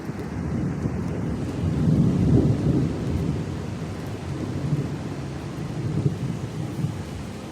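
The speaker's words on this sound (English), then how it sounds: "the storms start coming. We've got lightning and thunder." Thunderstorm in Florida: a continuous deep rumble of rolling thunder over steady rain and gusting wind noise, heavy and unbroken throughout with no talking.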